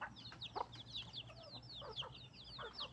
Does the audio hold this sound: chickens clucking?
yes